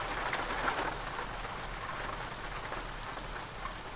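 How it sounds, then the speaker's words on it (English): Steady rain in the video game American Truck Simulator patters continuously with a soft hiss, drops scattered across the sound, no voices. "and it's raining"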